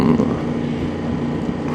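A Yamaha Tracer 7 Y-AMT motorcycle cruising at steady speed on cruise control, its engine a smooth, even hum blended with wind rush, heard from the rider's position.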